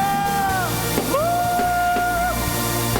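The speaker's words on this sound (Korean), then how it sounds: "우리 주님께 영광의 함성." A worship-service congregation raises a loud, sustained shout of praise, voices merging into a continuous roar with a prominent long sung or yelled tone over steady crowd noise.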